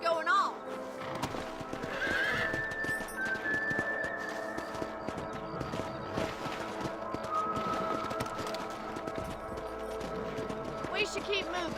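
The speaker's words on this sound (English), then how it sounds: "Let's get back on the horses and see what else is going on." Horses in the Red Dead Redemption video game whinny loudly over steady clip-clopping hooves and a dense game soundscape, with a voice talking underneath.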